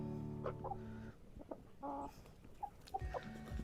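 Soft, intermittent clucking from a few Barred Rock chickens nearby, short murmuring calls scattered over quiet background.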